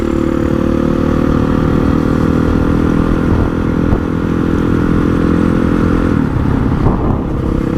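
A Honda CRF 450 dirt bike runs under load while being ridden, its engine a loud, continuous close drone with slight pitch shifts and a brief clatter near the end.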